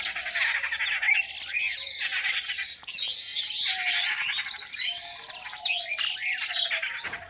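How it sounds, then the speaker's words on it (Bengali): Birds chirping on a misty village morning, dense overlapping high twittering calls running continuously and fairly close, with no talking. "শুধু চোখটা বন্ধ করুন আর পাখিদের কিচিরমিচির শব্দ শুনুন"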